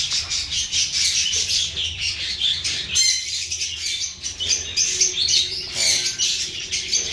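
Breeder birds in a cage, including hens, chirp, tweet and squawk in a busy, overlapping chorus close by, with occasional wing flaps and no voices.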